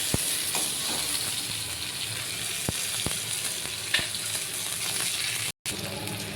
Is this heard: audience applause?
no